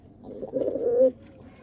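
A single male flying pigeon of the Kaldom breed cooing once up close, a rolling throaty coo swelling over about a second, then quiet.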